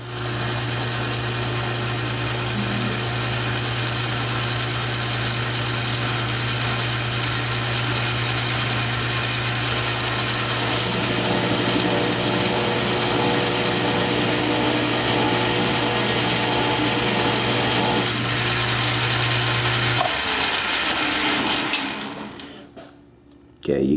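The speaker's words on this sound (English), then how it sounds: "Okay, so this is carbide with chip breaker, and we've sped the lathe up." A metal lathe running at raised speed cuts aluminum with a carbide chip-breaker insert, giving a loud, steady machining whine and drone for about twenty seconds before winding down abruptly.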